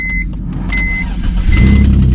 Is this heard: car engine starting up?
yes